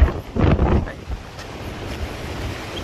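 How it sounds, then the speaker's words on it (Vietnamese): Wind gusts across an outdoor microphone on a riverside plot of land at Cồn Phong Nẫm, Sóc Trăng, a loud buffeting rush at the start that settles into a steady lower roar. "Gió rất là mát luôn của chú chị."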